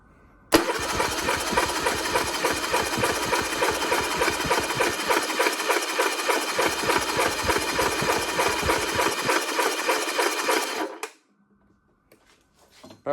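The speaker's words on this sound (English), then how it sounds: "Throttle's open." A Yamaha 50HP outboard engine cranking hard with the throttle open, a loud, fast, steady mechanical chatter for about ten seconds before cutting off abruptly.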